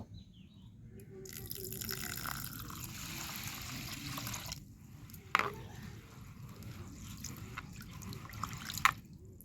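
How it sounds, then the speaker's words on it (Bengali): Overnight-soaked raw rice rinsed with water in a kitchen, a running wash of splashing and trickling water with a couple of sharp drips or knocks near the end, close and steady. "এবার আমি জল দিয়ে আতপ চালটাকে পরিষ্কারভাবে ধুয়ে নেব।"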